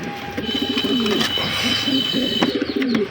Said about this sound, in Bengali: এই যে কবুতরগুলো একটু দুষ্টাই বেশি করতেছে